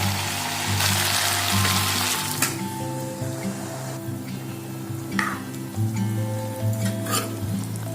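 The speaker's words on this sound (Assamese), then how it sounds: "এতিয়া ইয়াত বুটৰ দালিখিনি দি দিম" Chana dal is tipped into a sizzling pan of chicken and taro curry and stirred, a steady loud frying hiss with a few spoon scrapes and knocks throughout.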